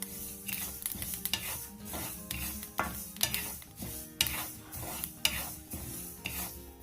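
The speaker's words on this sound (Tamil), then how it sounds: "இந்த ஃப்ளாக்ஸ் சீட் நல்லா வறுபடும் போது படப்படன்னு வெடிக்கும்," Flax seeds dry roasting in a kadai, with steady stirring scrapes and a scatter of small crackling pops and sizzles at moderate volume, and no speech.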